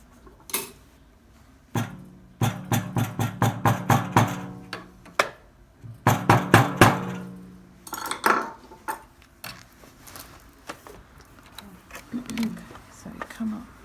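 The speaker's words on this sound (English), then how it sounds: "I'm going to hammer that." A hammer taps repeatedly on a sewn jacket seam laid on a hard surface, quick bursts of sharp knocks with pauses between, while someone talks quietly in between.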